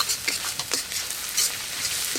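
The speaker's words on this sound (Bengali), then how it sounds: "যতক্ষণ না আদা রসুনের কাঁচা গন্ধ যায় ততক্ষণ এইভাবে নাড়তে থাকবো" Ginger-garlic paste frying in a pan, stirred steadily, gives a close, continuous sizzle broken by scraping strokes of the spatula.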